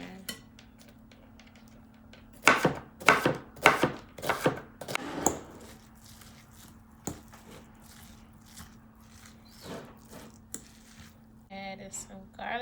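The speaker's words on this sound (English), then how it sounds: "So I'm just gonna cut up an onion real quick." An onion being sliced quickly with a knife on a board, a burst of sharp, crisp chopping strokes in a rapid rhythm, then scattered softer cuts, with a low steady hum and speech heard briefly.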